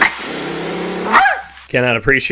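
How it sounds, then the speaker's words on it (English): A dog barking sound effect plays in a radio studio: a sustained growl-like bark, then several harmonic yelping barks in quick succession, loud and close. "I never know when that dog bark's going to come through here in the studio"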